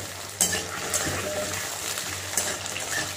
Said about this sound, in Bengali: আলুটাও একটু ভেজে নেবো কচুর সাথে